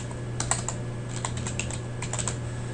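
Quiet keystrokes on a computer keyboard come in short, irregular bursts of clicks over a faint steady hum, with no voice.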